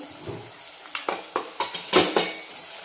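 A spoon stirs turmeric sautéing in oil in a pot for Marathwada-style mutton curry, giving a run of distinct metallic scrapes and clinks over a faint sizzle, close and fairly loud.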